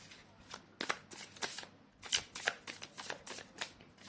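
Tarot cards are handled and shuffled close by, a quick series of crisp flicking, riffling snaps in an irregular rhythm, soft overall with no talk.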